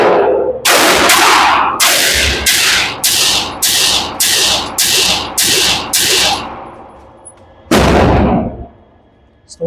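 A MAC9 fires at a shooting range in rapid, evenly spaced, very loud sharp cracks, about ten in a row, followed by a pause and one more shot, each ringing out with a brief echo.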